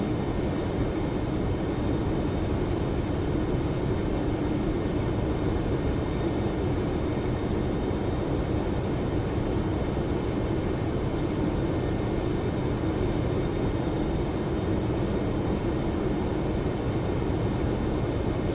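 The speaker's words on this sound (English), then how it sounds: "Our aircraft's going to pitch down a little bit so we can speed up." A steady, loud aircraft engine drone during descent, the plane pitching nose-down and picking up speed toward 280 knots; a continuous, even roar with no break and no voices.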